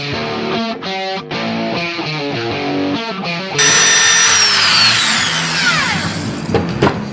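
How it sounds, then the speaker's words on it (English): A wire wheel on a power tool scrubs carbon buildup off an engine valve, giving a loud whirring, grinding rush that winds down with a falling whine; steadier mechanical noise comes before it. "I prefer removing it with the wire wheel"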